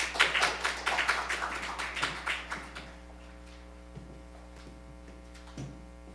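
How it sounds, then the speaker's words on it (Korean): A church congregation claps to welcome a deacon who is about to give his testimony, a burst of brisk, scattered clapping that fades out within about three seconds and leaves a steady electrical hum with a few faint taps. "우리 박수로 맞이하면 좋겠습니다."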